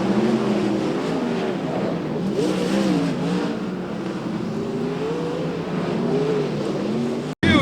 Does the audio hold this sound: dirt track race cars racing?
yes